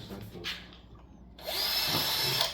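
A power drill pre-drills a board, whirring loudly for about a second near the end after quieter handling sounds and a short earlier burst.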